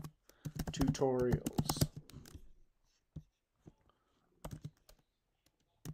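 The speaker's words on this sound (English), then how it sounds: "I'm horrible at typing today." Someone types on a computer keyboard in bursts of quick, close clicks, with spoken words mixed in near the start and gaps of silence between the later bursts.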